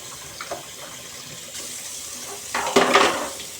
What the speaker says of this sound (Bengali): কিমাটা ধুচ্ছি